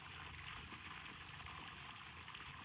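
Bore well water pours continuously at a newly built home, a steady rushing trickle with faint gurgling that holds at an even, fairly soft level.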